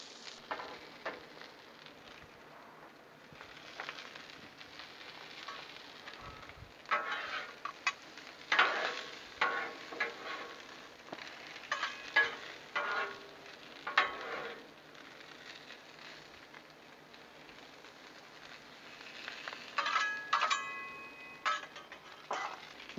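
Italian sausages sizzle steadily on a Blackstone griddle, a continuous frying hiss broken by irregular louder crackles and spatters as they are turned, with no talking.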